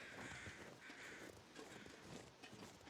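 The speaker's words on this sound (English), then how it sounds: "I'm hearing crows" Crows caw repeatedly in a snowy wilderness in the survival game The Long Dark, harsh calls coming in quick bursts, faint and distant.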